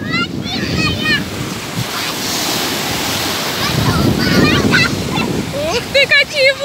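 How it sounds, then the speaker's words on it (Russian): Sea waves crash and surge on the shore under heavy buffeting wind against the microphone, loud and close, while children's voices call and exclaim excitedly over the surf. "Ух ты, какие волны!"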